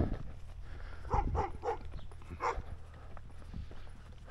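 A dog barks several times out on a rural hillside path near a few village houses, a short run of moderately loud barks around the middle with a softer one later, over light outdoor background noise.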